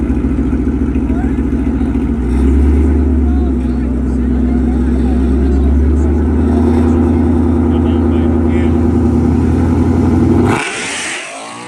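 Drag racing cars roar hard at full throttle at an abandoned drag strip during a no-prep race. The loud, sustained engines build over several seconds, then cut off abruptly as the cars pass.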